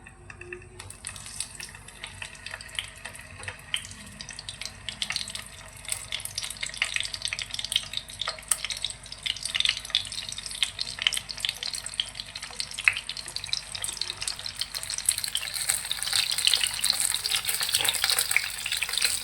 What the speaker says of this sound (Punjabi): ਤੇਲ ਆਪਣਾ ਹੁਣ ਗਰਮ ਹੋ ਗਿਆ ਜੀ ਤੇ ਹੁਣ ਆਪਾਂ ਸਾਰੇ ਟਿੰਡੇ ਇਹਦੇ ਵਿੱਚ ਐਡ ਕਰ ਦਾਂਗੇ